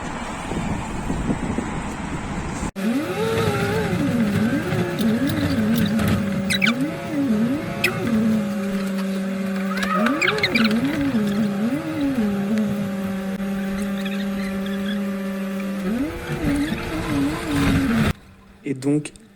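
A London bus rides through the city near Tower Bridge, its motor whine rising and falling in wavy tones over a continuous rumble of road and wind noise. It is heard from on board for most of the ride before stopping abruptly near the end.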